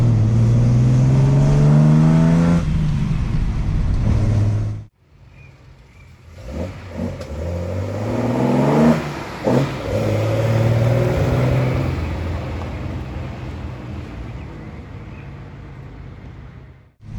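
Nissan Skyline engine revving and pulling hard in first gear, a loud, close rising drone that surges, briefly cuts out, then climbs again with gear-change swells.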